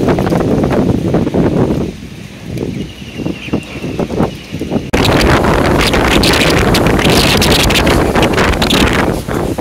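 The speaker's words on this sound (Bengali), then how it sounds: "এখন হাওয়াটা দিক থেকে আসছে, হাওয়াটা ঘুরছে না, উল্টো দিক থেকে মারছে হাওয়াটা" Strong storm wind during Cyclone Remal buffets the microphone in loud, gusting roars that ease briefly midway, then surge back as a dense, continuous blast.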